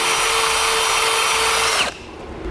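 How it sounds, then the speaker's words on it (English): Power drill boring holes in metal with progressively larger bits while fitting a base plate kit to a 2015 Chevrolet, a loud steady whine that cuts off abruptly near the end. "Now I'll step up drill bit sizes until I've reached the final size necessary to be able to fit the bolt through."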